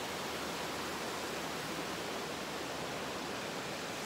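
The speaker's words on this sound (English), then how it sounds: "It's got running water over here too." Steady rushing water from a waterfall in Hawaii, an even hiss with no pauses, heard faintly.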